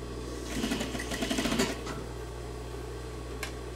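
A sewing machine stitching over a waistband seam runs in one short, rapid burst of needle clatter lasting about a second, close and clear over a faint steady hum, then stops.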